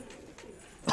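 A soft, brief coo from an Andhra pigeon in a loft, a low murmur heard at close range with no talk, ending in a sudden louder noise.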